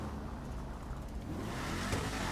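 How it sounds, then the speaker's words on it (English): An Imponte Arbiter GT muscle car in GTA Online accelerates with a low, fairly quiet engine drone that builds slightly toward the end, heard alone without talking. "You can hear the engine."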